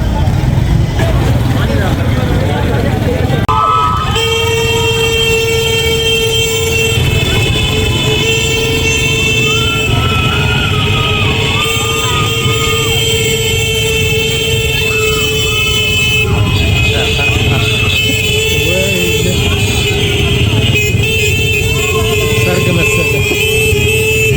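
Loud city street in Ethiopia during a fuel shortage, with vehicle horns sounding repeatedly and a long steady horn or siren tone held through most of the stretch, over constant traffic rumble and crowd noise.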